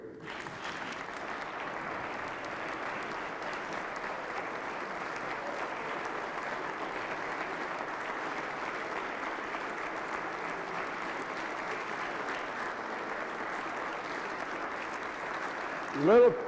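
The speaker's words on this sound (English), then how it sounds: "You've got to give them a giant round of applause." Sustained applause from the chamber audience at West Virginia's State of the State address, a continuous crowd wash at moderate distance lasting over sixteen seconds, with a brief louder thump at the very end.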